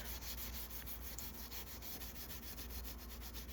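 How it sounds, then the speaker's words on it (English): A small brass plate on a restored Landis leather splitter is gently scuffed with rapid back-and-forth rubbing strokes, a soft, steady, close scratching rhythm. "We'll scuff over this one time here just to polish her up so we can read it."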